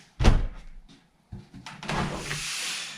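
A new garage door swings shut with a solid, loud close thud, followed by a fainter knock and a rising rush of air or rumble as it settles.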